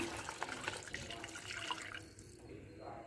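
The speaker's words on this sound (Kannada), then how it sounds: "ನಾನಿಲ್ಲಿ ಎರಡು ಕಪ್ ನೀರನ್ನ ಹಾಕ್ತಾ ಇದ್ದೀನಿ" Water poured into a cooking pan while making rasam (tili saru): a steady splashing pour with a few small drips, fairly quiet and close, tapering off near the end.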